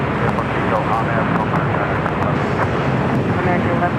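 A heavy airliner takes off from runway 25 right at Los Angeles International Airport, its broad steady engine roar filling the scene continuously with wind buffeting, while radio talk runs over it.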